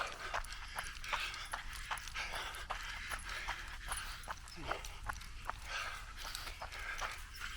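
A dog pants steadily on a three-mile trail loop in Chula Vista, California, quick rhythmic breaths mixed with the patter of footsteps on the path, close and continuous throughout.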